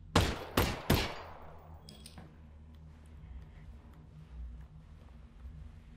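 Three sharp, loud gunshots from the GoldenEye video game fire in quick succession at the start, followed by a low droning game background and faint clicks.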